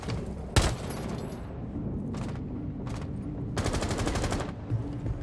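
Bursts of automatic gunfire in Rainbow Six Siege: a sharp single shot, then two short rattling volleys and a longer sustained burst, loud and close over a steady game ambience.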